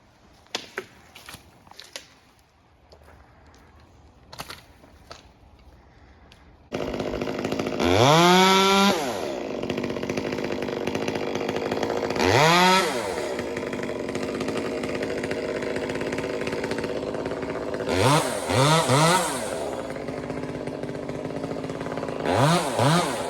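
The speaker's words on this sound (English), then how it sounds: "we'll take this little saw, because the wood's not that big" A small chainsaw cuts into maple wood during a tree removal, its engine revving up and down in several distinct bursts over a steady idle after a few faint knocks at the start.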